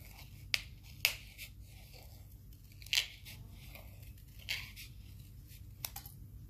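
Scissors cut a curve into paper during a comparison test of Tonic, Xcut and EK Success scissors, giving a few quiet, sparse snips and crisp paper crunches over a low background hum.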